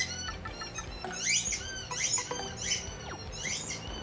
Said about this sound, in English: Storm of Squeaks.